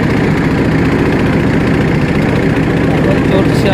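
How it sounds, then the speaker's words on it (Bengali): A trawler boat's engine drones steadily while cruising on a river, a loud, continuous low mechanical hum with constant vibration throughout, close by and without pause. "এখন চলছি আমি ট্রলারের সাউন্ডটা শুনলে কেমন যেন লাগে, অদ্ভুত একটা সুন্দর মেশিনের আওয়াজ"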